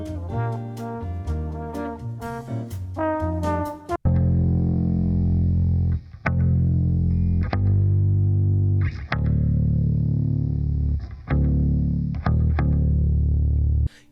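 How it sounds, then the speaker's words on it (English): Heavy distorted shoegaze bass line built from a synth bass preset in Ableton. Sustained, fuzzy low notes change every second or two after a short melodic intro, loud and dense with no talking. "Supporting these guitars is a bass line, which is obviously the same preset as the last bass, but the notes are being played a little differently"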